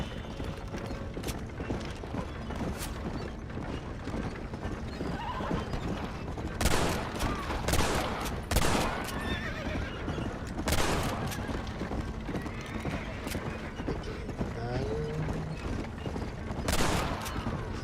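Horse whinnies and hoofbeats in the Western video game Red Dead Redemption, mixed with sharp gunfire bursts and game sounds at moderate level.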